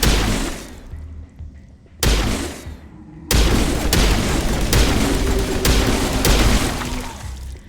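Gunfire in the Mass Effect video game, a string of sharp reports that set off loud bursts and booms, close and dense, with no talk over it.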